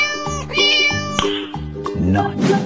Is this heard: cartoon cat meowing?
yes